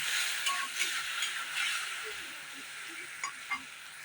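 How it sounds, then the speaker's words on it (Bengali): A masala of ginger, cumin, green chilli and tomato fries in a pan with a steady, moderate broadband sizzle, and a few soft clinks of stirring break in now and then. "সেই মশলাটা এর ভিতরে দিয়ে দেবো, দিয়ে ভালো করে কষিয়ে নেব।"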